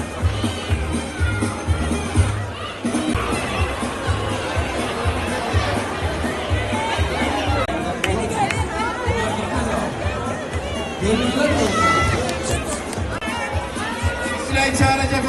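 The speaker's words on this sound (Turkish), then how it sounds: "Bu kadar kalabalık niye toplandı?" Crowd chatter and babble fill a baby crawling race event in Rize, Turkey, steady and dense throughout, with voices talking over the hubbub.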